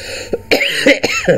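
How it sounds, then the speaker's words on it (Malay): A few sharp coughs, close and fairly loud, in quick irregular bursts with short gaps between them. "Batuk."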